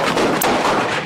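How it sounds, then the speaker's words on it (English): Gunshots fired inside the Power Ultra Lounge nightclub shortly after 2 a.m., a dense rattling burst of loud sharp cracks in quick succession, captured in a rough news recording. "Gunfire inside the Power Ultra Lounge shortly after 2 a.m."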